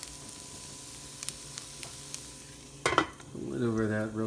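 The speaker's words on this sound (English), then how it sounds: "Let's get that a-sizzling." Green onions in a skillet give a faint background sizzle with light utensil clicks, then a louder scrape and a rising hiss near the end, with no talking.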